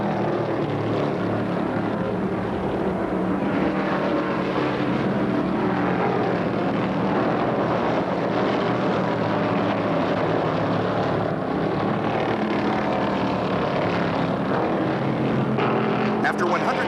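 NASCAR stock cars race wheel-to-wheel at about 170 mph in the 1971 Michigan 400, a dense, steady engine roar heard from trackside, overlaid by a commentator talking throughout.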